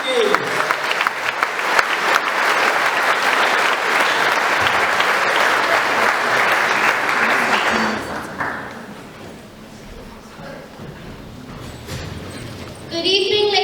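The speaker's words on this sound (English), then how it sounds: "can we have a big round of applause for 5th class" Audience at a school Christmas concert applauds 5th class, loud sustained clapping for about eight seconds that then fades into quieter room noise and murmuring, with a brief rise at the end.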